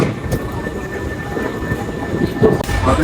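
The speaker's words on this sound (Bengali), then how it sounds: "আমাদের এয়ারপোর্টে যাওয়ার ট্রেন চলে এসছে" An airport train pulls into a station in Osaka, its low rumble and rattling wheels loud and close, with a steady tone running through.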